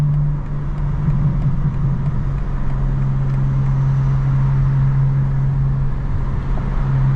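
A 2025 BMW M4 CS engine and transmission under way, a steady loud drone with a strong low hum holding constant throughout, no voices.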